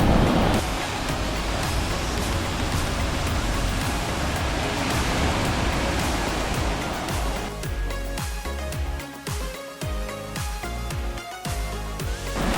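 Surf rolling in at Wai'anapanapa black sand beach on Maui: a loud, continuous broadband wash of breaking waves that holds steady throughout, later mixed with a more textured layer, with no voices.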